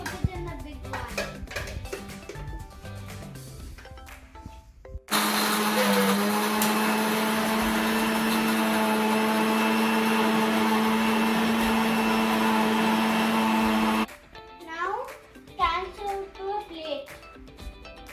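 A blender grinds ingredients for turmeric leaf kozhukkatta (modak) in a small blending bowl, a loud steady whir running for about nine seconds, with kitchen clatter and a voice before and after.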